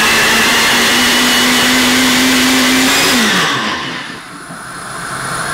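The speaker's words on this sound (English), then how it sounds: "Now I'm going to grind this together. So time to grind this." An electric grinder whirs loudly as it blends yogurt and spices into a paste, holding a steady high whine for about three seconds before winding down and trailing off into a quieter hum.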